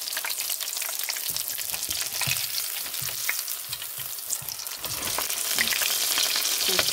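Fish cutlet made from fish fillet sizzling in a hot pan, a dense continuous crackle and spatter of oil with occasional stirring bumps, close and steady.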